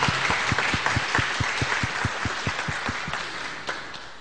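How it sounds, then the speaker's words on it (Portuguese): A church congregation claps together in a steady, fast rhythm, dense sharp hand claps repeating evenly throughout, loud and close, with little talk over it. "Força nessa palma"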